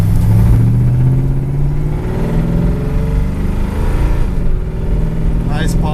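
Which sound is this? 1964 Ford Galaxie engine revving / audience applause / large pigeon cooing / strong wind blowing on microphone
1964 Ford Galaxie engine revving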